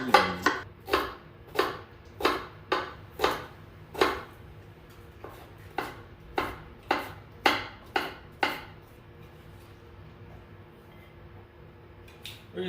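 A knife finely chopping onion on a cutting board, a steady run of crisp, sharp taps about two per second, close and clear, stopping after several seconds with faint room noise under it.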